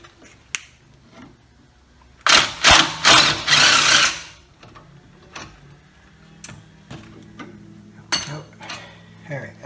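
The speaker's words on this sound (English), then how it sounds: "crack those two carrier bolts loose" A socket wrench on brake caliper carrier bolts on a 300ZX Turbo gives a burst of rapid ratcheting clicks, then scattered metallic clicks and knocks in a quiet garage.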